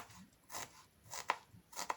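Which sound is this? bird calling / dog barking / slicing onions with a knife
slicing onions with a knife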